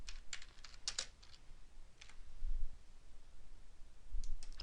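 Quiet bursts of typing on a computer keyboard, a few clusters of clicking keystrokes separated by pauses, close and fairly soft.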